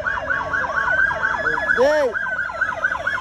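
Several police cars race up an avenue in a chase, their wailing sirens sweeping up and down loudly and close, overlapping with a brief whooping yelp midway and a short shout.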